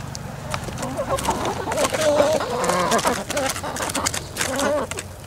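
Several chickens clucking and murmuring close by, a busy overlapping chorus of short calls with some rustling.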